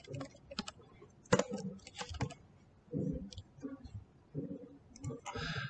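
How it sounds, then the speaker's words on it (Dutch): Computer keyboard typing in bursts of quick clicks, alternating with a person speaking, the keystrokes near and moderately loud. "Ik ga even mee typen."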